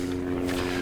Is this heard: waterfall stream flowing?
no